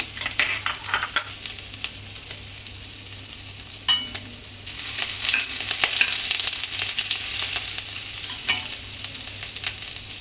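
Chopped ginger and garlic sizzle steadily in a hot pan while a spatula stirs and scrapes, with sharp clicks scattered through the frying.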